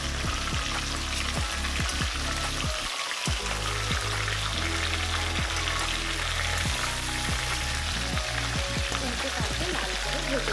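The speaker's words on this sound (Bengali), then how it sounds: "কড়াইতে তেল গরম হয়ে গেছে। এবার আমি মুড়োগুলো ছেড়ে দিচ্ছি।" Fish heads sizzling and frying in hot oil in a kadai, a loud continuous crackling sizzle throughout with brief popping bursts and a short dip partway.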